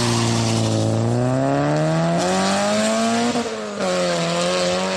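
A car engine revs loudly and steadily as the car pulls away fast, the pitch climbing and dipping through the gears, with a brief dip in level near the end.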